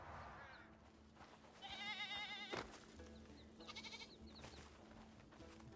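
In the Crimson Desert video game, baby goats give two separate quavering bleats, one near and fairly loud, the next shorter, over a low, steady ambient hum.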